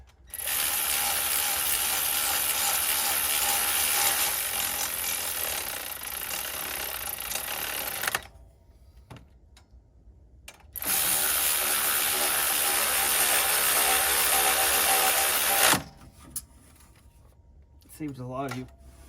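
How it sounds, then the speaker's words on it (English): Ryobi cordless power tool ratcheting during a water pump change on a 2015 Silverado, in two long loud whirring, clattering runs separated by quiet gaps, followed by brief handling noises. "Saves a lot of work using cordless tools like this."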